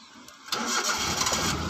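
A car engine cranks and fires up during a manual-transmission driving lesson, catching abruptly and settling into a loud, steady run close by.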